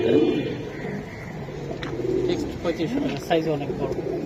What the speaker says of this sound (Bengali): দর্শক বাইশ নম্বরে একজোড়া কবুতর দেখাই